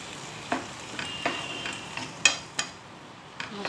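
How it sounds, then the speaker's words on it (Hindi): Mushrooms and vegetables fry in a pan for a quick pasta, a soft steady sizzle punctuated by several sharp scrapes and taps of a utensil stirring against the pan. "इन सब को साथ में भून लेते हैं।"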